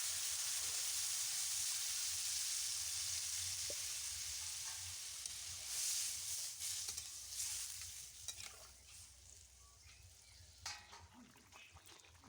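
Fish curry broth with ridge gourd bubbles in a pot with a soft, continuous hiss and simmer, joined by faint clinks and stirring toward the end.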